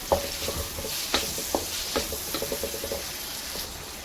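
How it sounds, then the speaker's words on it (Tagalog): Beancurd and seafood stirred on a hot pan with oyster sauce, stock, sugar and black pepper: a steady sizzle runs underneath while a utensil scrapes and clicks against the metal in short, irregular strokes, close and fairly quiet. "Tapos i-stir natin."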